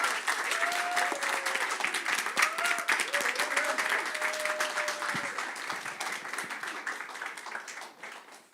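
A crowd applauds performers at an Earth Day service with dense, sustained clapping and a few cheering voices, gradually fading toward the end.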